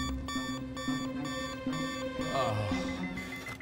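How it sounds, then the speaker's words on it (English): Repeated electronic alarm beeping from an ankle monitor's perimeter alarm in a film scene, a steady pulsing tone sounding throughout with some background film audio beneath. "You trip the perimeter alarm, we search the place."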